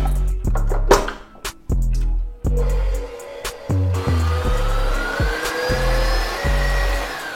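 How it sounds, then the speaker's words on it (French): A KitchenAid stand mixer starts and stops in a run of bursts, then holds a steady rising motor whine, loud and close in a kitchen. "Un magnifique KitchenAid. Vous savez, ces robots de cuisine qui coûtent très cher. On va quand même l'essayer, voir s'il marche."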